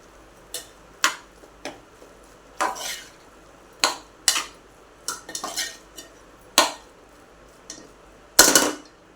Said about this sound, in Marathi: कोथिंबीर आणि शेंगदाण्याचा कूट हे टाकून मिक्स करतो